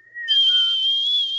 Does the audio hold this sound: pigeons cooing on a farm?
no